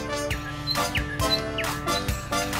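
Cartoon birds chirp and tweet in short, repeated, bright calls on a sunny day, several quick chirps in a row over a light musical backdrop.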